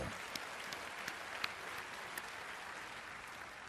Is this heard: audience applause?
yes